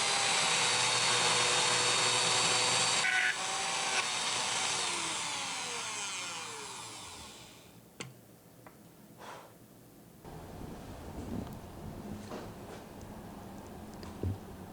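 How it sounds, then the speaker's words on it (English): A power router with a flush-cut bit screams loudly for several seconds as it trims wood along a template edge, then winds down and stops, followed by quieter clunks and handling sounds. "we simply use the flush cut bit to guide along the edge of the template"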